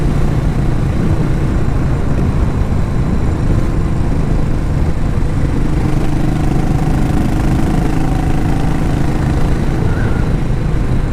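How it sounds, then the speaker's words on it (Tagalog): A motorcycle engine runs through an aftermarket exhaust pipe, a loud, steady, bassy rumble droning continuously for the whole stretch with no talk over it. "Naririnig niyo po ba yung pipe ko? Yung tunog ng motor? Ang lakas,"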